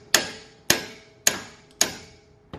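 Four sharp, evenly spaced mallet blows ring out during leveling kit installation on a 2017 Ford F-250 truck, each a hard close knock that decays quickly, with a fifth starting at the very end.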